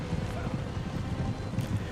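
Prussian cavalry horses gallop in a dense, steady rumble of hoofbeats that runs the full two seconds, close and moderately loud, with a busy low-end clatter throughout.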